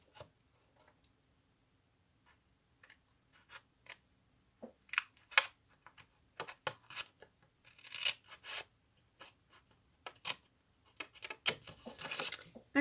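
Scissors cutting paper for a Stampin'Up! place card, a close, quiet series of crisp snips and rasping slices that start sparse and grow busier and more continuous toward the end, with no talking.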